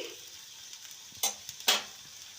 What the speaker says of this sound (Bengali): এবার সুন্দর করে নাড়াচাড়া করে নিচ্ছি